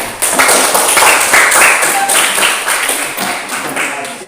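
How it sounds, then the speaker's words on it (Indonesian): Students in a classroom applaud group 3 with steady, dense clapping that lasts several seconds and fades slightly near the end. "Kita beri aplaus untuk kelompok 3"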